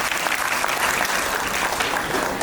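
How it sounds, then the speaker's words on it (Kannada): A hall audience applauds to welcome a guest at a Gurunamana event, dense, loud clapping from many hands that holds steady across the short stretch. "ಜೋರಾದ ಚಪ್ಪಾಳೆಯೊಂದಿಗೆ ಅವರನ್ನು ಸ್ವಾಗತಿಸಿಕೊಳ್ಳೋಣ"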